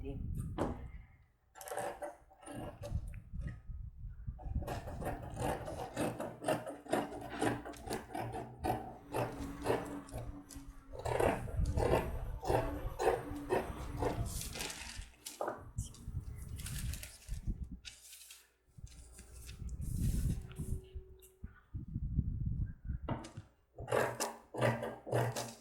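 Fabric is cut for flare trousers up close, with repeated rough rasping strokes in uneven bursts and short pauses, and a voice speaks at times over the work.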